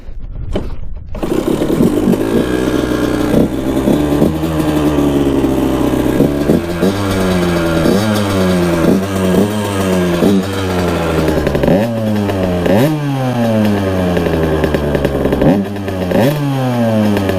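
An old abandoned dirt bike, fixed after sitting, roars loud and close, the engine climbing through repeated rising revs and shifts in a sustained top-speed run.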